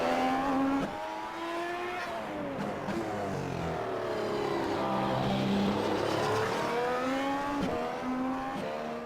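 An F1 2016 race car engine in a PC racing game revs high and shifts through gears, rising whines dropping at each change, loud and continuous with a tire squeal, and no talk.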